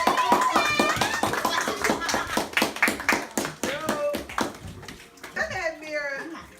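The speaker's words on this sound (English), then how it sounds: "Everybody clap it up!" A small group clapping hands together in quick, rhythmic bursts, close and lively, with children's excited voices chattering and calling out over the claps.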